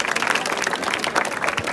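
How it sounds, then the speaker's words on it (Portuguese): Crowd applause and cheering at a Brazilian trap rap battle, dense and loud, with voices mixed into the clapping throughout. "Era uma salva de palmas aí, família."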